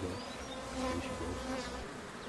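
Honeybees hum at the entrance of a hive in Africa as a queen is let in, a dense, close, continuous buzz of many insects with a slightly wavering pitch and no voices.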